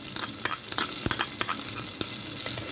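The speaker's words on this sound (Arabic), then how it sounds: "ونبدا نقلب لحد ما التومه تاخد معانا لون جولد جميل كده" Minced garlic fries and sizzles in Egyptian ghee in a pan, with a steady crackle and repeated sharp scrapes and clicks of a spoon stirring close by.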